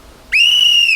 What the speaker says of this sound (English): It will start on my whistle and it will finish on my whistle.